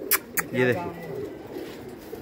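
Pigeons perched up high give soft, throaty coos close by, and someone speaks briefly over them near the start.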